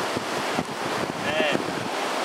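Ocean surf rolls steadily onto a beach in India, a constant broadband wash with wind buffeting the microphone and faint bits of voice underneath.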